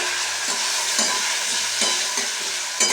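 Mustard seeds, poppy seeds and dried chilli frying in a pan, a steady close sizzle broken by a few soft stirring scrapes, with no voices.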